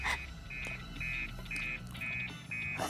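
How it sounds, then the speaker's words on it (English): A repeating electronic buzzer tone in a visual novel game sounds in regular short pulses, six in a row, over a low background hum. "buzzer ga natta zo"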